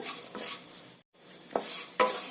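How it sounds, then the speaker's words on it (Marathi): Roasted vermicelli is stirred and sautéed in oil in a pan for upma. It gives a soft sizzle with scraping stirs, a brief silent gap, and then a few sharper scrapes. "पूर्ण शेवायला कोटिंग तेलाचं होऊपर्यंत हे परतून घ्यायचं"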